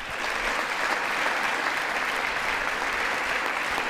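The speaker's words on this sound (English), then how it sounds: "trying to encourage applause even when it's not necessary" Sustained applause fills the chamber of Congress during a presidential joint address, a thick, even wash of many hands clapping at a constant level throughout, with a faint crowd murmur underneath.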